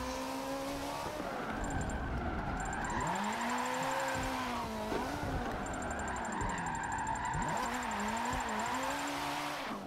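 A race car in a driving video game, played on a Logitech G920 wheel, works through tight, short turns, its engine revving and dropping continuously with tire squeal, loud and steady throughout.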